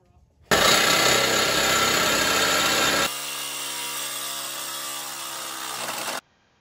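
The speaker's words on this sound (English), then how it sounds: "I'm gonna have to grab my reciprocating saw and just cut that horizontal pipe." A reciprocating saw cuts through the horizontal exhaust pipe of a Chevy Trailblazer during catalytic converter replacement, a loud, harsh, continuous buzzing rasp that starts abruptly, drops in tone partway through and stops cleanly after about six seconds.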